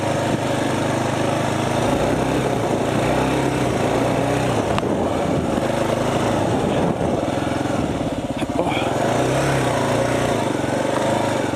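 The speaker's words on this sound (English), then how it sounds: "my weight is right back on this bike, and the throttle is on" A Kawasaki KLR motorcycle engine runs with the throttle on along a mountain road, a loud, steady, close-up drone that holds for several seconds with slight rises and dips.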